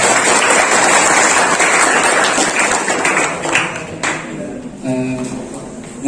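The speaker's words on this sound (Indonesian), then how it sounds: "Tepuk tangan dulu ya, Bapak" A crowd at a campus orientation for new engineering students at Universitas Tanjungpura breaks into loud, dense applause that fills the hall for several seconds before thinning out, followed by a voice speaking over a microphone.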